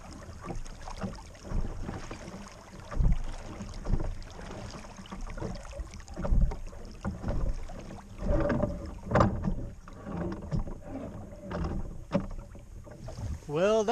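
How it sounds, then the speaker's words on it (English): Oars working a small sailing skiff on open water near an island, with irregular splashes and creaks from the oar strokes over steady wind noise on the microphone, fairly close and moderately loud. "So I just went ahead and got the oars out."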